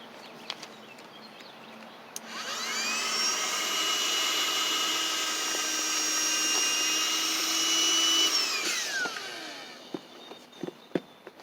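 Electric pump inflating a truck bed air mattress switches on abruptly, runs as a steady loud buzzing whine for about six seconds, then winds down and stops, followed by faint handling clicks.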